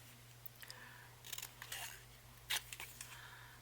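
Scissors trim paper pockets for a handmade envelope journal in a few short, crisp snips and rustles, close and very quiet over a low hum.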